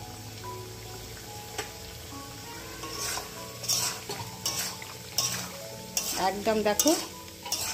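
Mutton gravy with ghee and garam masala being stirred in a pan, steady frying sizzle under repeated scraping strokes and clinks of a utensil against the pot, a few brief spoken words.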